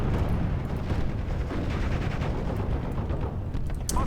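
Artillery and guns open fire together in the World War II strategy game Steel Division: Normandy 44, making a dense, continuous rumble of blasts and rattling shots that holds steady and loud with no voices over it.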